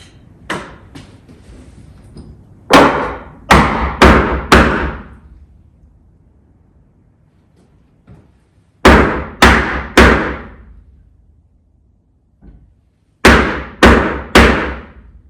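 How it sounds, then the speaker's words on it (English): Hammer striking a scrap wood block to nudge a timber stud of a garage partition wall upward: close, sharp knocks in quick bursts of three or four, separated by quiet pauses, with no talking. "I've just got a scrap piece of wood to put on up to that piece and then just hit that with a hammer."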